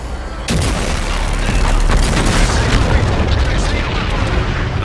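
Heavy gunfire and booming blasts erupt in Call of Duty: Infinite Warfare during a firefight on a supercarrier, loud and continuous, with voices speaking underneath.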